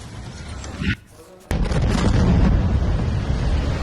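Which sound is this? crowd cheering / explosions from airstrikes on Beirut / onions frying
explosions from airstrikes on Beirut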